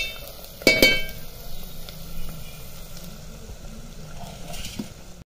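Spice tempering sizzles and crackles in a pan as it is stirred, with a sharp burst of hissing at the start settling into a steady low sizzle.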